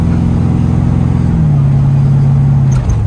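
A 1973 Chevrolet Corvette Stingray engine hums steadily while driving, its pitch dropping as it shifts gears, with faint traffic noise in the background.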